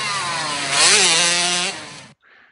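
Loud, buzzing motorcycle engine effect for a racing game, a steady high-revving drone that swells in pitch midway, then cuts off abruptly, leaving a faint brief tail.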